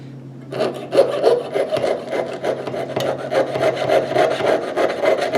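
A jeweler's saw rasps back and forth through metal in quick, regular strokes, close and moderately loud, with no talking.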